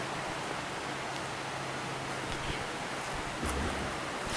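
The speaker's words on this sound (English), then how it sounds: "this is the Beaver Creek" Water flowing in Beaver Creek near Sedona, Arizona, a steady broadband rush with no break, fairly faint and heard alone without talk.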